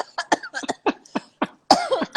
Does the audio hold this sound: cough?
yes